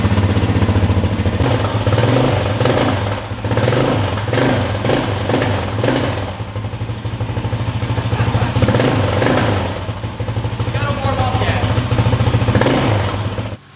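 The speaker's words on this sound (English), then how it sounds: "Let's go ahead and turn the quad on and test this thing out." A Yamaha Raptor 700 quad fitted with a twist throttle runs with a loud, close, continuous engine rumble and idle, its revs repeatedly pulsing up and down through the whole stretch.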